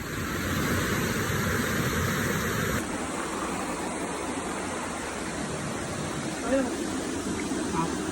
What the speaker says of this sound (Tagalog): Ang gandang pakinggan yung tunog ng tubig dito.